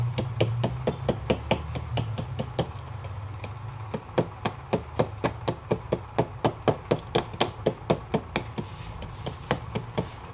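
Steady hammer blows fold an acrylic sheet, sounding as evenly spaced sharp knocks that speed up into a regular rhythm of about three strikes per second, close and crisp.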